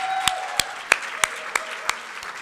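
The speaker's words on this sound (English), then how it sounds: "we can give them a round of applause" About seven sharp claps land at a slow, even pace, close and distinct, as a round of applause at a dinner event in New York.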